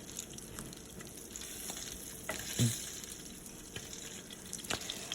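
Pieces of rui fish fry in hot oil in a pan, giving a steady, close sizzling crackle with small pops and stirring clinks throughout, and no talking.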